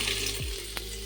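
Chopped garlic drops into hot oil in a pot for Rajasthani dal bati, setting off a close, steady sizzle with a brief stirring scrape and a soft clink.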